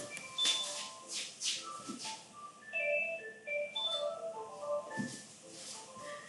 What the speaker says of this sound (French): c'est pas du direct, téléphone sonne